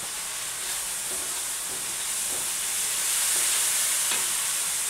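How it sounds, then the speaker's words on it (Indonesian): Long beans, shrimp and tempe are stirred in a hot pan, giving a steady bright sizzle with soft scraping strokes of the spatula every second or so. No one speaks. "Oke, kita masukin semuanya, kita aduk lagi."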